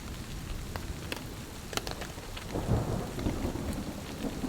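Heavy rain pours down during a storm on a mountain, a dense steady wash with scattered sharp drop impacts and a swell of low rumble midway, faint overall and without speech.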